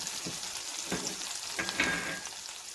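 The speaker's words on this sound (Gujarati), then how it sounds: "આપણે એમાં કલોજી એડ કરી દઈશું." Kalonji seeds and green chilies sizzle and crackle in hot oil with browned cumin, a steady close frying hiss with a few sharper pops and spatters and no voices.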